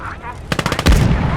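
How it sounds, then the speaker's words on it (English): Rapid gunfire and a grenade blast in the World War II game Gates of Hell, a burst of loud shots followed by a heavy low explosion rumbling on. "So, rifle heat grenade it is."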